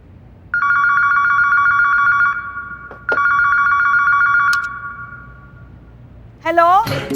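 Telephone ringing at a women's police station in Lucknow, a loud electronic trill in two long bursts separated by a short gap, followed by a voice starting to speak.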